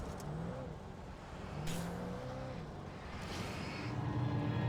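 A front-wheel drive car in Alan Wake drives along with a moderate engine hum that rises and falls in pitch as it revs. Rumbling road noise sits beneath it.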